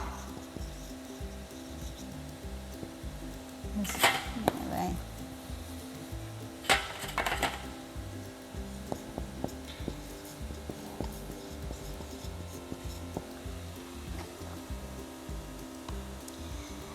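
Amyl acetate mixture shaken with 5% sodium carbonate solution in a lab glass vessel: a steady hum underneath, with two louder rustling, sloshing bursts and scattered small knocks.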